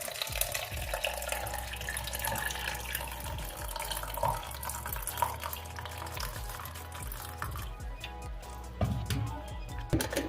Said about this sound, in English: you pour in warm water